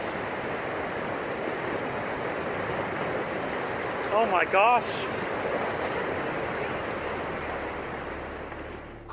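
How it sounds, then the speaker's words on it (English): A massive surge of ice and water roars down a river and under a bridge, a dense continuous rushing wash; someone briefly exclaims partway through before the roar eases slightly toward the end. "A massive wave of ice and water comes rushing down the river and under a bridge"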